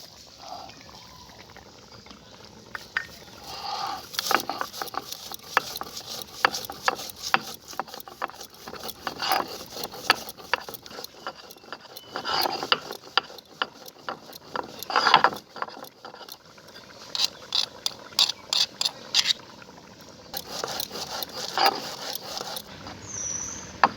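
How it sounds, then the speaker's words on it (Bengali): Cumin and garam masala spices being ground by hand, a long run of close, irregular scraping and rattling grinding strokes with brief pauses and no voices. "এখন এই জিরে আর গরম মশলাটা আমি বেটে নেব।"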